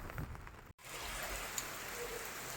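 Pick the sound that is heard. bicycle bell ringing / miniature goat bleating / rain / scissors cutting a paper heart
rain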